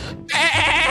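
A voice imitates a goat, letting out a single loud, wavering bleat that starts abruptly after a brief pause.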